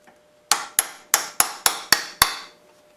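Seven sharp metallic taps of a little hammer on a socket drive a part onto a Maytag 72 engine, evenly spaced and close, each ringing briefly before the next.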